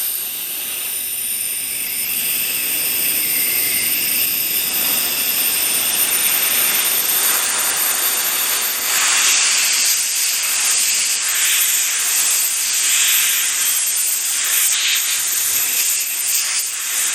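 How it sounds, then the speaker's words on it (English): Compressed air blows onto a lead casting mold to cool the poured lead insert for a hardwood assembly mallet, a steady close hiss with bright fluctuating rushes and no talking. "Let's take a little bit of compressed air slowly and just cool it down."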